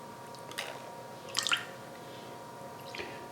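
Liquid stevia drops into brine in a few small, distinct drips, with a quiet faint patter among them and no one talking.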